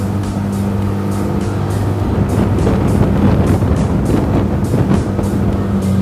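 A motorboat engine drones steadily on the Moskva River in Moscow, with rushing water and wind buffeting the microphone, loud and constant throughout.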